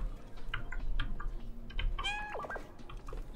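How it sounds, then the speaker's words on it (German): A cat in the video game Stray gives a short rising meow over a steady bed of ambient game noise and scattered small clicks. "Das war Miauen."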